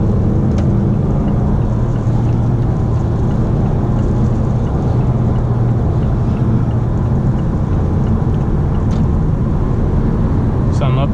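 A 2018-2020 Mazda 6 Grand Touring Reserve on a test drive picks up speed toward highway pace, heard from inside the cabin as a loud, continuous roar of engine and road noise.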